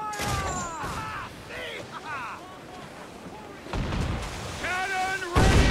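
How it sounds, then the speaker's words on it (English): Ship cannons fire in the naval combat of the Assassin's Creed IV Black Flag video game, heavy booms breaking out at the start and near the end amid wind and sea noise while crew voices shout over the battle. "Fire!"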